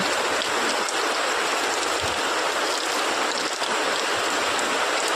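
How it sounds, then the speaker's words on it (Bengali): Heavy rain pours steadily as heard from a house balcony, a dense, continuous hiss of water hitting surfaces with no pauses and no voices. "দেখো কত জোরে বৃষ্টি হচ্ছে দেখতে পাচ্ছ কত জোরে বৃষ্টি হচ্ছে"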